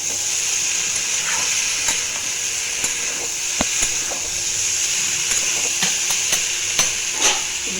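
A Bengali prawn dish with taro stolons (chingri loti) simmers and sizzles in a pan, a steady hiss of frying punctuated by sharp clicks and taps of a utensil against the cookware.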